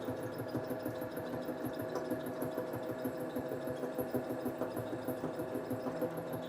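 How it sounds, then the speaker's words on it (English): Lathe running a taper turning cut, a steady mechanical hum with a rapid rhythmic chatter of the cutting tool and spindle, close and continuous with no speech. "So this is the taper turning operation and you can see that a beautiful taper has been formed with this taper turning operation."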